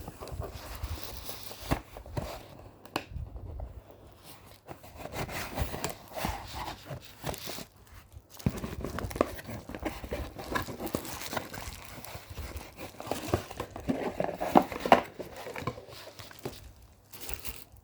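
HRD-905 emergency alert radio packaging being opened, with close crinkling, rubbing and tearing of cardboard and plastic in irregular bursts, with no talk.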